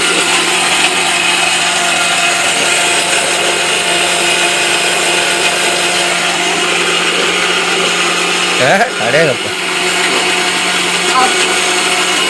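A mixer grinder grinds coconut for thuvaiyal in a home kitchen, a loud steady whirring drone running throughout, with a short voice exclamation and brief clatter near the end.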